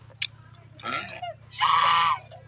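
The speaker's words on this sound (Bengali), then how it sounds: "এই হলো পুরুষ হাঁস" A male duck calls up close in three harsh, raspy honks: a brief squawk, then a longer nasal call, then a loud sustained quack near the end, over a low constant hum.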